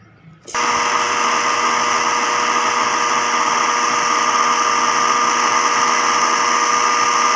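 Electric spice grinder pulverising chaat masala spices: a loud, steady whirring motor that kicks in after a brief quiet moment and runs continuously to the end.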